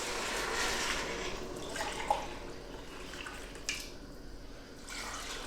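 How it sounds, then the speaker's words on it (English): Chicken broth pours steadily into a pot, a continuous watery wash with a couple of small splashes and clinks along the way. "Start adding our chicken broth."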